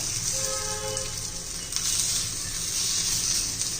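Continuous hissing sizzle of pumpkin fritters frying in oil on a hot griddle, close and steady throughout, with a brief faint tonal sound early on.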